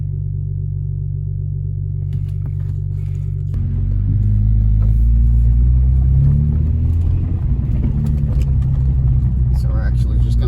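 BMW E30 fitted with an N54 engine, driving on the road: a steady low engine rumble that swells after a few seconds as it pulls away, with faint rattles over the top.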